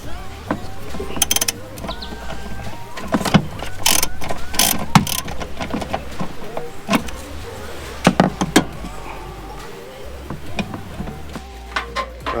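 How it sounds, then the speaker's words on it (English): A ratchet wrench loosens the power steering bracket bolts on a Toyota Landcruiser VDJ76 during a pre fuel filter install, giving sharp, close metallic clicks and clatters in uneven bursts throughout, with no talking. "Right, so I've loosened all the power steering bracket bolts off."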